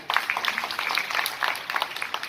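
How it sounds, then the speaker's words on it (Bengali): An audience claps steadily throughout at a science test prize distribution ceremony, a continuous patter of many hands at moderate volume. "জোরে হাততালি"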